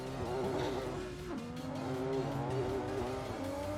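Drift cars doing burnouts on the start line at Nikko Circuit, with engines revving hard and tires squealing in long sliding tones, some distance off and partly washed in open air.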